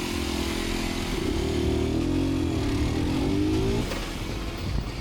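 Aprilia RS125 two-stroke motorcycles rev during a drag race, a buzzing engine note that rises and holds under steady broadband wind and road noise, then drops off near the end.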